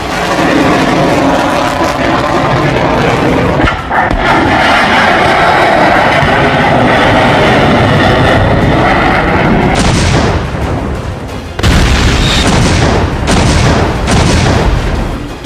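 A BrahMos supersonic cruise missile test launch, heard as a loud, sustained roaring blast that fills the whole stretch, with abrupt cuts near the end.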